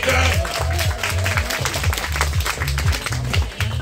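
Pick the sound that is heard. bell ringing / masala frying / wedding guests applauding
wedding guests applauding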